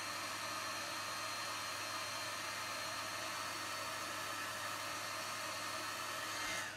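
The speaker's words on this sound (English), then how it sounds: "And now we're going to heat set this." A heat gun blows steadily on embossing powder to set it until glossy, giving a loud, continuous broadband whoosh close to the mic that runs unbroken through the whole stretch.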